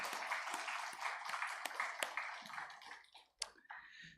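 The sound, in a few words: church congregation applause encouraging youth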